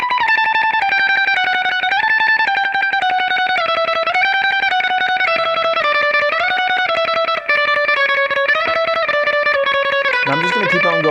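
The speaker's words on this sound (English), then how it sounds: "Now the next part is what I want to show you is the final tremolo picking bit." A distorted electric guitar plays fast tremolo picking in a 90s alt-rock solo style. It sustains a rapid, shimmering stream of notes that slide between pitches, loud and up front with no talking.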